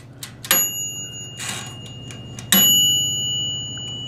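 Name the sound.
Black & Decker toaster oven timer bells, two tones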